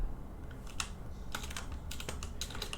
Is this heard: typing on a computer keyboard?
yes